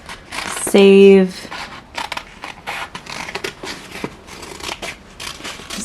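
Scissors snip through a vinyl decal for upcycled wedding decor. Close, crisp cuts come in a loose run of short clips, alongside a brief tonal burst early on and a person talking.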